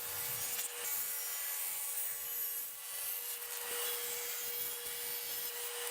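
A bandsaw with a dull blade resaws a wooden board, giving a steady, loud, continuous rasping hiss with a constant motor hum underneath, close and uninterrupted throughout.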